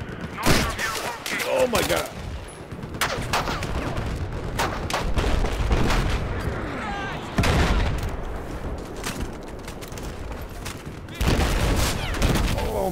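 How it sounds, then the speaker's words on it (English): Enemy gunfire in Battlefield 4, heavy bursts of automatic shooting and loud booming blasts arriving in waves, while someone shouts in alarm over the noise. "he's fucking shooting me"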